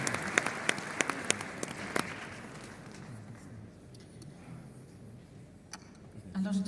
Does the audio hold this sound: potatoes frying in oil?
no